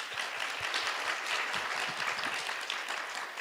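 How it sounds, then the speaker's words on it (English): Audience clapping for the speakers at an international conference on women and peace, an even, moderately distant round of applause with sparse individual claps standing out and no talking over it. "a big round of applause for them, please"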